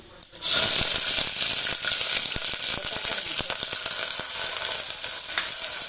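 Cumin seeds sizzle in hot oil during tempering for a fasting-day Gujarati potato dish, a loud, steady crackling hiss that bursts in near the start and keeps popping close up, with no talk.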